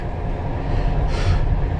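Onboard a passenger train travelling from Krakow to Przemysl, a steady low rumble of the carriage in motion with a brief hiss partway through.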